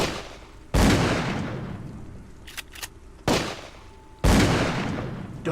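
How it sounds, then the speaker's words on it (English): Three heavy gunshots fire at spaced intervals in the video game Call of Cthulhu: Dark Corners of the Earth, each a loud close blast with a long echoing decay, and a few brief faint clicks fall between them. "I still hear shots though."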